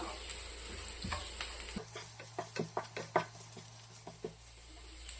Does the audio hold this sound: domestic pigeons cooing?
no